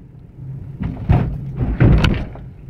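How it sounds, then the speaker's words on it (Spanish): A car rolls over a speed bump in second gear, giving a few heavy suspension thumps and knocks against a low engine rumble, close and fairly loud. "voy a pasar el tope en segunda."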